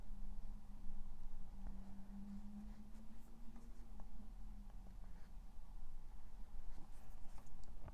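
A brush swatching deep watercolour paints onto paper, soft close strokes and light scratches scattered irregularly over a steady low electrical hum.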